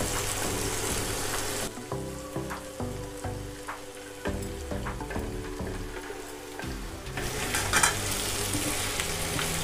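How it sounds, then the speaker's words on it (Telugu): Bitter gourd slices fry with chopped onions in a pan, a steady close sizzle broken by scraping and stirring sounds, with no one speaking. "ఇప్పుడు ఈ కాకరకాయలు వేసి వేయించుకుంటే ఈ ఆనియన్స్ లో ఉండే వాటర్ కాకరకాయల్ని బాగా వేయిస్తుందండి"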